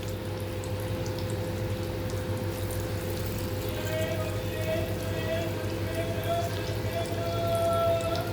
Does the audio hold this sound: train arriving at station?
no